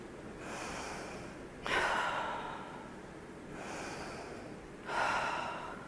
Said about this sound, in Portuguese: existem outros tipos de respiração, por exemplo, a respiração apenas abdominal